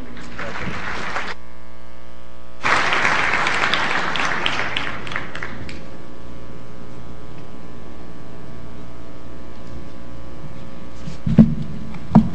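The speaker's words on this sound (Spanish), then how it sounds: "Un aplauso, por favor." Audience at the closing of a national geography and environment convention breaks into a burst of applause that swells then fades over a few seconds, with electrical hum and quiet room noise around it.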